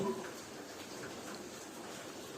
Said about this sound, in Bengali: প্রচুর জোরে বৃষ্টি হচ্ছিল, তোমরা শব্দ শুনলে বুঝতেই পারবে